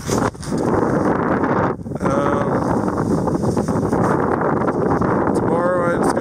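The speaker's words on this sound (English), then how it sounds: "If it stays as windy, probably not, but hopefully the wind will die down slightly by then." Strong wind buffets the microphone at the Ceremonial South Pole, a steady, loud roaring rumble with brief gusty dips.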